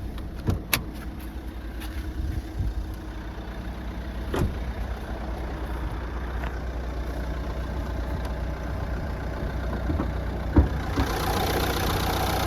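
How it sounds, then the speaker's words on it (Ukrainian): A 2016 Nissan Qashqai engine idles steadily with a low, even hum, a few faint clicks scattered through, no voices. "Двигун працює рівно, посторонніх шумів не видає"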